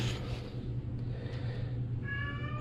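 A cat gives a single drawn-out meow near the end, fairly faint over a steady low background hum.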